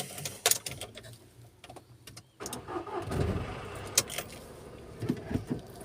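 Car engine starting and pulling away, with a key-turn clatter, a cranking catch and a rising engine note under rustling and knocks inside the cabin, fairly quiet and close.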